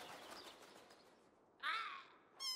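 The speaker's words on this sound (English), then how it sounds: "There's a bird. He's gonna shit on me." A crow cawing in a video game, a few rough, harsh calls, the loudest burst coming near the end, fairly clear with no talk over it.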